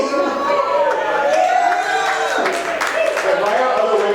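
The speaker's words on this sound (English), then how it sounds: "Why are other women applauding?" Women in an audience at the Red Barn applaud and cheer, a dense continuous wash of clapping and crowd noise with voices rising through it.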